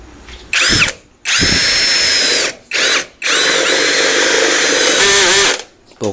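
Lucid cordless drill driving a screw with the torque clutch set at 5, loud and close, running in several whining bursts with short pauses as the clutch slips and ratchets.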